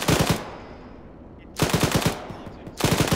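Automatic weapon fire in the military shooter Arma 3, three loud close bursts of rapid shots separated by short pauses with echoing decay.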